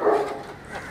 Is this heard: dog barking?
yes